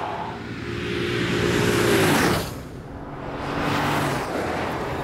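A Mercedes-Benz M-Class SUV driven hard with its ESP switched off, the engine rising loudly under acceleration, easing off briefly midway, then building again, with tyre and wind roar throughout.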